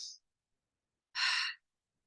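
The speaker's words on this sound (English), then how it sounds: "Deep breath." A single deep breath drawn in and let out, soft and close, with a brief faint breath just before it and otherwise silence.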